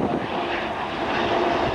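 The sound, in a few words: White Knight 2 airplane flying at air show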